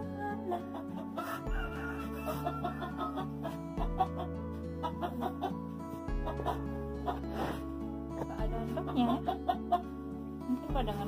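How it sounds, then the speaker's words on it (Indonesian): A broody hen clucks in a farm coop in snowy weather, giving repeated low, throaty clucks close by, with a few quiet moments of other sound between them. "Oh, ada ayam mendok di sana."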